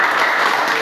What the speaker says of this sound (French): nous devons l'applaudir, taper les mains pour l'applaudir